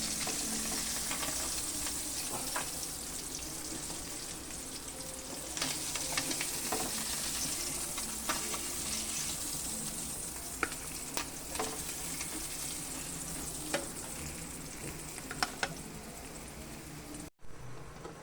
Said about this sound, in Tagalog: Prito na po natin yung bangus.